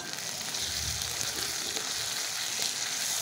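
Tomato sizzles and fries in oil in a pan as masoor dal is cooked, a loud, steady, close hiss that runs the whole time with no talk.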